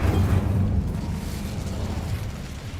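Incendio fire spell cast in the video game Hogwarts Legacy, a dense low rumbling whoosh of flame that stays loud and steady for nearly three seconds with no voices over it.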